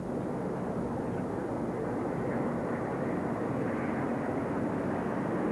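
Airplane passing over an outdoor professional tennis match, a steady broadband engine roar that fills the whole moment without breaks, with no talk over it.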